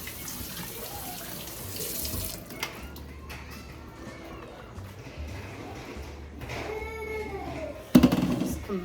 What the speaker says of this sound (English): Straining these beans.